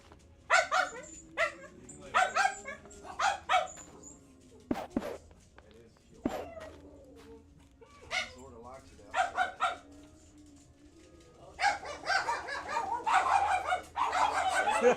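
Dogs barking indoors in short loud bursts with scattered yips, alternating with people talking and brief footsteps nearby.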